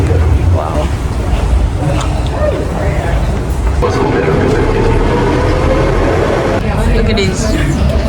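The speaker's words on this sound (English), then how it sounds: "the oldest metro line" Budapest's M1 line, the oldest metro line, with a metro train rumbling and clattering steadily throughout, loud and close, while people chat and exclaim over it.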